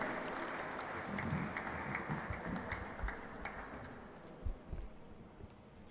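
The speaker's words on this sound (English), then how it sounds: "Please welcome with a round of applause Swami Samarpanananda ji." Audience applause welcoming a swami to the podium at an endowment lecture series, a steady wash of clapping from a large crowd that fades over several seconds.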